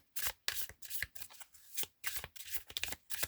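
Tarot cards are shuffled by hand in quick riffling bursts, close and crisp, with short pauses between each flurry and no voice over them.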